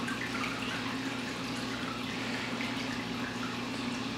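Water pours steadily into an aquarium tank that feeds a Bean Animal style overflow, the level rising toward the weir teeth; a constant close rushing, filling sound with no breaks.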